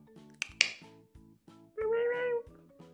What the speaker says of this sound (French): Vas-y, miaule là.